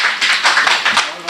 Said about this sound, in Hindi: एक जोरदार तालियां